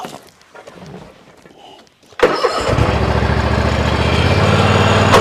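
A 2020 Toro Titan HD 1500 mower starts up: soft handling noises, then the engine cranks and catches about two seconds in and settles into a loud, steady, close running drone.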